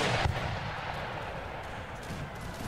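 Rifle fire in a video game battle from the Mahdist Rebellion at Gaza, a dense, distant crackle of massed gunshots with a sharp report early on, rumbling steadily without pause under the noise of battle.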